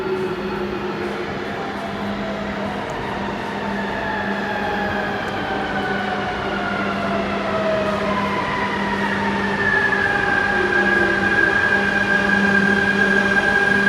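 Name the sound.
metro railway station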